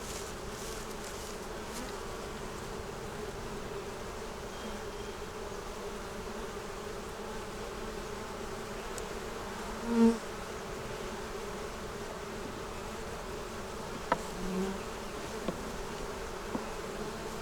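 Steady, dense buzzing of many honey bees at a honey-bound hive fills the air continuously, a low hum with occasional louder passes of individual bees nearby.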